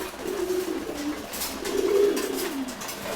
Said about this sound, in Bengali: আর রেড কালারের একটা কবুতর আছে, খুবই সুন্দর একটা কবুতর মাশাআল্লাহ।